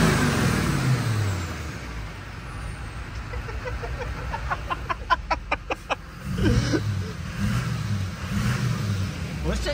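Duramax diesel pickup truck engine running, a low rumble with a faint rising turbo whistle and a brief burst of rapid clicks partway through, with people talking over it.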